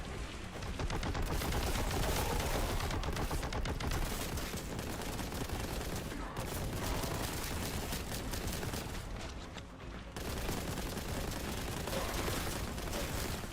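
A bolt gun firing nonstop in Warhammer 40,000: Boltgun, a loud, dense stream of rapid heavy shots with brief pauses and a few sharper blasts, close up and unaccompanied by speech.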